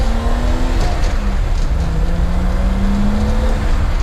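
A classic car cruising along the road, its engine droning steadily at close range with a low, continuous hum and no talking.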